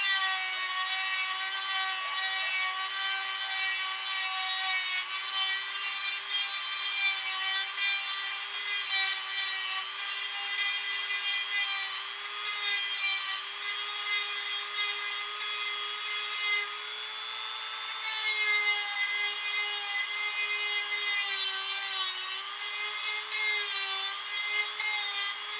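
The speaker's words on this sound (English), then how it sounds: "We'll take our little sanding disc here and we'll open it up some." Sanding disc on a power tool sanding a wooden ventriloquist dummy: continuous high-pitched whine with a steady abrasive rasp, loud and close, unbroken for the whole stretch with no talk.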